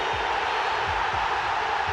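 Manchester United fans fill a football stadium at an FA Cup match, producing a steady, dense roar of crowd noise with no clear peaks.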